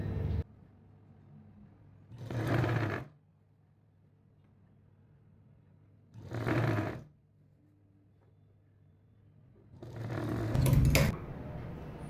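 A sewing machine stitches a blouse neck piece in three separate bursts, each a couple of seconds long, with quiet pauses between them. It is fairly close and there is no talk.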